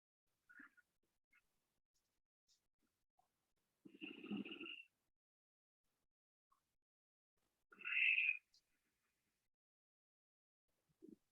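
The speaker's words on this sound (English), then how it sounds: "first into the belly, then the thoracic region, then the clavicular region. Once you're full of breath, you exhale everything out." Slow yogic breaths in a quiet room, a three-part inhale filling belly, chest and collarbones followed by a long exhale, heard as two soft drawn-out airy passes separated by silence.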